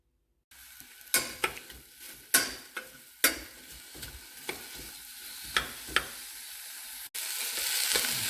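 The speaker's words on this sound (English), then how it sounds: "So first we are going to saute everything minus the greens because we are going to add that later." Onions, garlic, mushrooms and tofu sauté in a pan with a close, steady sizzle, punctuated by about a dozen sharp utensil clacks against the pan as they are stirred. No voices.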